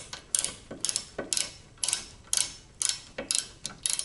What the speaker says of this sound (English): get your 10mm socket and a socket wrench